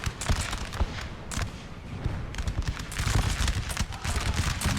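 Scattered volleys of musket fire crackle amid booming artillery in a Napoleonic-era battle from Napoleon: Total War, a dense, rolling din of overlapping shots that swells and fades without pause.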